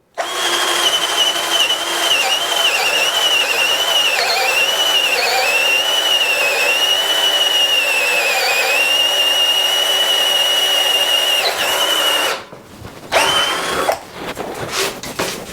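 A KIMO cordless drill with a half-inch bit whines steadily at high speed for about twelve seconds, boring a hole, then stops abruptly with a few short bursts after.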